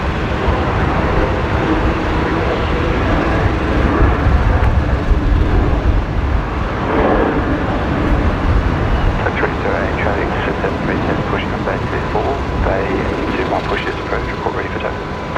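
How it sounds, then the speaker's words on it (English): A Qantas 528 airliner from Sydney lands at Brisbane Airport, its engine roar a steady broadband rumble throughout, with people talking nearby over it. "This is Qantas 528 coming in from Sydney this afternoon."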